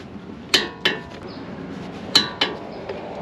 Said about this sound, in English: This is the Gear Wrench 85062 torque wrench that I use, and it actually goes up to 100